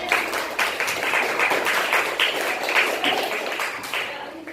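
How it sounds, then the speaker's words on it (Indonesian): Classroom of students giving a round of applause for their class groups, a dense, close burst of hand clapping that holds steady and then thins out at the end. "Berikan tepuk tangan kita tadi buat kelompok kelas dan kelompok-kelompoknya"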